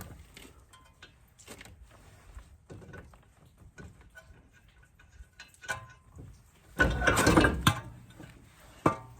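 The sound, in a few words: pulling the spindle assembly out of a Silverado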